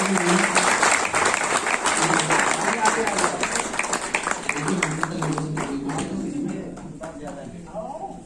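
Crowd at a national Navodaya alumni meet in Delhi claps loudly and steadily for the organising team, sustained applause that gradually thins and softens toward the end, with voices mixed in.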